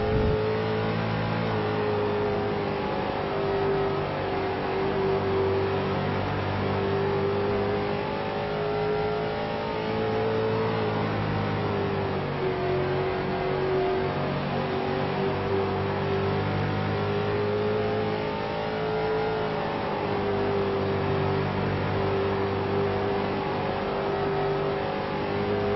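Race cars lap the Bristol oval in a steady, continuous engine drone, a sustained roar whose pitch dips and rises as they circle, loud and near throughout with no talk.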